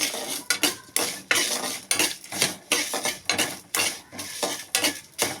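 Lentils roasting in a pan, stirred with a metal spoon: steady scraping and clinking strokes against the pan in an irregular rhythm, close and fairly loud, with no voices.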